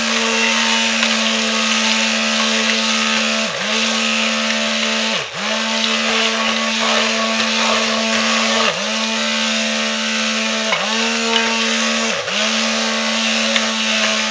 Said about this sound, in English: see how I'm doing this extra rocking motion with the stick blender down in the crock